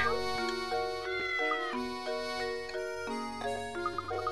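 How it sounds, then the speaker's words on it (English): A cartoon cat meows in the Professor Layton and the Curious Village video game, a short mewing call set over steady, bright game music. "What's in the park? This cat!"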